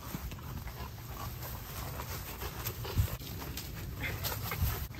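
A dog on an iguana hunt pants steadily and close by, its quick breaths mixed with pattering paws and rustling outdoors, with a couple of sharper thumps along the way.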